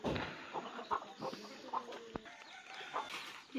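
Chickens cluck around a home in a hill village, with several short, separate clucks that stay fairly faint and close, and no voices.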